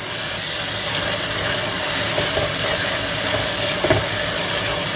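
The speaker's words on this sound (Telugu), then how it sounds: "ఇప్పుడు గ్రైండ్ చేసుకున్న పుదీనా పేస్ట్ వేసేద్దాం" Ground mint paste sizzling and frying steadily in a pan of browned onions and cashews while cooking mutton pulav, a continuous close crackle with faint stirring clicks.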